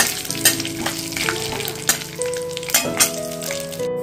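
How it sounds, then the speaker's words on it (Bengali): Bay leaf, cumin seeds, dry chili, pepper and cinnamon frying lightly in hot oil, a loud close crackling sizzle broken by repeated spatula scrapes and taps. "এটা হালকা ফ্রাই করে নিতে হবে।"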